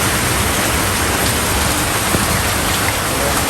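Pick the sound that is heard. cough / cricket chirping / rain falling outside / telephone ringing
rain falling outside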